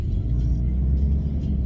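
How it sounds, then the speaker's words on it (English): A car on a morning commute to work, steady low engine and road rumble heard from inside the cabin, continuous and fairly loud with no talking. "So I'm in my car."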